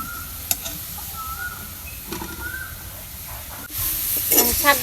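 Green chilies and onion frying in mustard oil for a village-style greens dish, a quiet sizzle with scattered clinks and stirring that swells louder near the end, close by.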